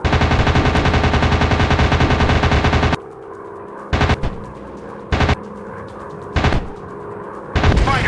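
Rapid machine-gun fire from a fighter plane in an air combat game, a loud sustained burst followed by several short bursts separated by quieter engine drone.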